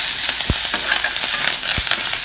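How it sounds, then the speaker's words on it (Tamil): Curry leaves and chopped coriander sauté in hot oil for a banana flower sambar tempering, a steady close sizzle broken by two dull spoon knocks against the pan. "போட்டு நல்லா எல்லாம் ஒன்றா வதக்கிக்குவோம்"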